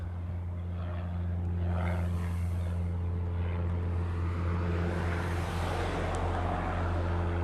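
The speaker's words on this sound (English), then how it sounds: "Next one off the reef runway is a Maui bound 737 Southwest" A Southwest Boeing 737 bound for Maui takes off from the reef runway at Honolulu, its jet roar building into a loud broad rumble that swells toward the end, heard from a distance with no talking.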